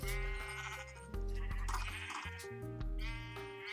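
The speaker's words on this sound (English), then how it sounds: "here are all the sheep" Sheep in a video game bleat loudly and up close, several overlapping cries in quick succession with no pauses between them.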